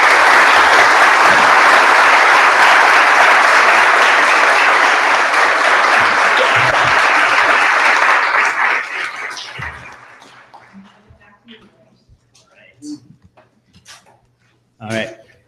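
An audience applauds debate panelists on God, heaven and hell with loud, dense clapping that holds for about eight seconds, then thins into scattered claps and fades, leaving a few faint voices and thumps in the quiet.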